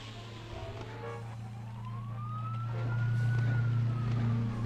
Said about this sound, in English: And there's sirens going by outside.